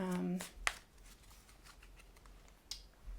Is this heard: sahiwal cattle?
no